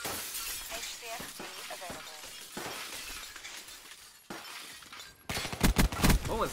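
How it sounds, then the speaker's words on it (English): Glass shattering all over in an online video game match, with repeated sharp breaking bursts and crashes scattered across the scene, growing loud and dense near the end, while players talk over it. "I don't know why the glass is all fucking breaking everywhere."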